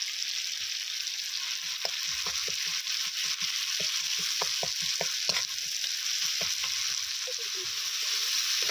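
Ginger-garlic paste frying in hot oil with spices for an egg curry, a steady sizzle broken by repeated scraping strokes of a stirring spoon against the pan.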